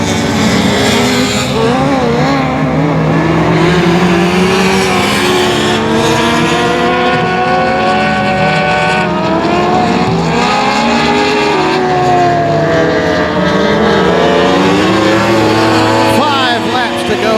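Race cars run at 281 Speedway during The Big Chill event. Several engines scream loud and close in one continuous wall of sound, with pitch rising and falling as the cars accelerate through the laps.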